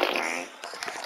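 One brief raspy fart sound effect in the video game Roblox, lasting about a second.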